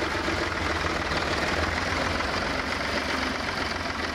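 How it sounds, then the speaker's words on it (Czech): Zetor 30 tractor engine idling at a historic ploughing event, a steady, continuous low rumble with a broad noisy texture, close and moderately loud, with no talk over it. "To je traktor mého mládí."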